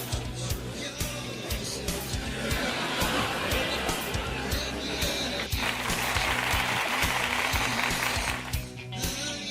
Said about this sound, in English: I like when they give us the applause, man.